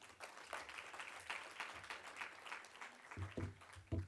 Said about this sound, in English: he certainly deserves a round of applause